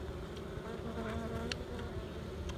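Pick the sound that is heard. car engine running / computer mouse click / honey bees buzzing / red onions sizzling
honey bees buzzing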